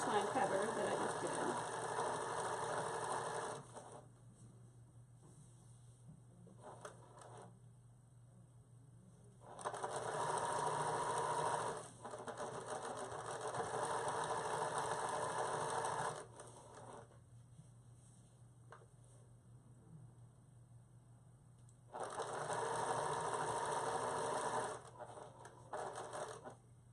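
A sewing machine runs in three separate bursts of steady, fairly loud whirring stitching while making a card holder, with short back stitches and quiet pauses between the runs.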